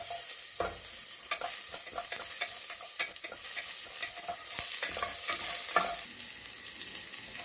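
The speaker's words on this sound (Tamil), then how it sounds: "இது கொஞ்சமாக வெங்காயம் போடும்." Onions frying in ghee with whole spices (cinnamon, cardamom, star anise, cloves, bay leaves) for ghee rice, with a steady close sizzle broken by frequent scraping stirs of a spoon against the pan throughout.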